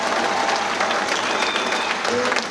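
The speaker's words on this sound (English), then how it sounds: "Now, when I call her name out, you ought to clap for that." A business-meeting audience claps continuously, a dense, loud wash of applause from a large crowd filling the whole stretch without pause.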